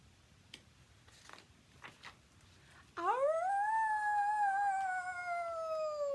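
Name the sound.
dog howling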